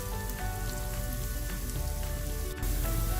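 Onions browning in a pan for a beef shank coconut cashew korma, a steady close sizzle with dense crackle throughout and a brief louder burst near the end.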